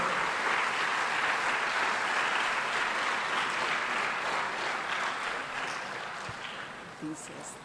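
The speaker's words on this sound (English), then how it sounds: "So give applause to all of them who are making this happen." Students at a quiz event in Kuppam applaud the team members, producing a thick wash of crowd clapping that stays strong and slowly thins near the end, with a few voices and a faint thump under it.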